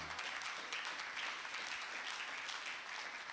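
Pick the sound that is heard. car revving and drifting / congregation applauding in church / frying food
congregation applauding in church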